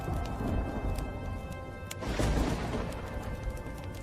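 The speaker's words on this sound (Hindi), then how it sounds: "और जोर जोर से बिजली कड़कने लगती है।" Loud thunder rumbles through a rainstorm, a broad low roar swelling near the middle and rolling on over steady rain noise.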